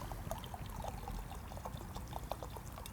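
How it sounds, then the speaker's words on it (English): Salty liquorice candy pours into a bottle of Koskenkorva vodka, a steady close rattling trickle of small pieces that runs on without a break for the whole stretch, with no talking. "So there's enough room to pour the candy into the bottle."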